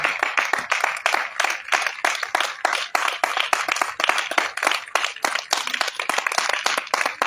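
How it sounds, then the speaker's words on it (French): A church congregation at an intense prayer evening claps in acclamation, dense rhythmic hand claps repeating steadily and loudly throughout with no speech. "Avec une acclamation pour Jésus."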